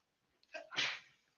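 A single sharp sneeze with a short inhale before it, close and clear against near silence.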